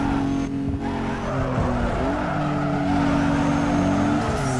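A Mitsubishi 3000GT drifting in the racing game NFS Underground 2, with a loud continuous engine roar and sustained tire squeal, pitch shifting as the car slides, no talk.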